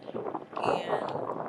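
Outdoor wind gusts through a natural spot where a person sits writing in a journal, a soft breathy rush buffeting the microphone that swells midway and stays low and steady.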